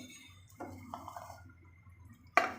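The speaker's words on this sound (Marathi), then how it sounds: "मी यात दोनच चमचे पाणी घालणार आहे" Two small spoonfuls of water poured onto broken jaggery in a pan for sesame-jaggery laddoos, heard as brief faint splashes and drips, followed by a sharper clink of a spoon against the vessel.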